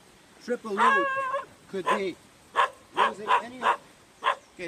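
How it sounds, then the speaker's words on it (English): A dog makes a few short barks and yips close by, interrupting and mixing with a man's speech outdoors. "sorry about the dog"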